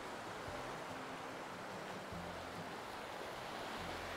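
Ocean waves washing onto Klong Hin Beach on Koh Kut, Thailand, a steady, soft, continuous surf hiss with faint low rumbling and no voices.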